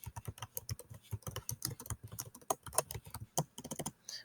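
A name being typed on a computer keyboard while setting up a test: quick, uneven runs of crisp key clicks with short pauses, close and clear, with no voices.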